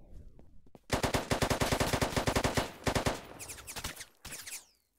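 A turret machine gun fires in long rapid bursts in a Roblox video game set in Syria: loud, close and dense, with a brief pause mid-stream, then a few final shots and a short tail.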